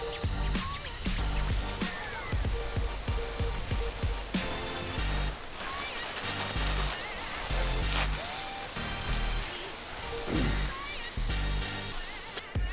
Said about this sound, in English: I'm going to stay up here and finish rinsing this roof